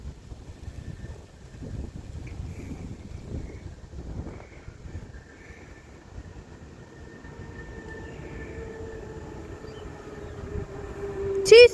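A Class 230 train passes on the Borderlands Line at Shotton, a steady rumble and rising whine building over several seconds with wind noise, ending in a sharp burst at the close.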